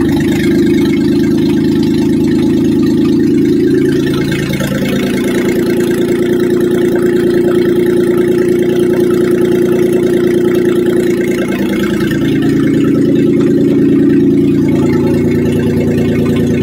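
Maruti Suzuki Omni CNG van running without a silencer, its engine idling with a steady, loud low rumble and a slight rise and fall in pitch, no voices over it.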